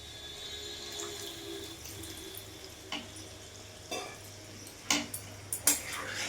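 Water is poured into a pan of potato and pointed gourd curry, a soft close splashing and trickling with a few clinks of a utensil against the pot toward the end.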